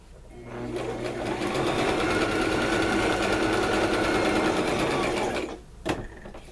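A sewing machine stitching around the edges of a quilt strip, running in one steady, fast whir for about five seconds before stopping, followed by a brief clack.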